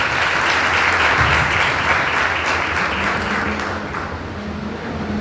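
A church congregation applauds with loud, dense, steady clapping that continues throughout and eases slightly toward the end.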